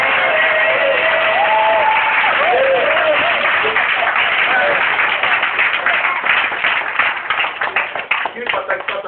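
A church congregation at a deliverance service in a village claps and cheers loudly for Jesus, with dense applause and shouting voices filling the room and rhythmic clapping emerging toward the end.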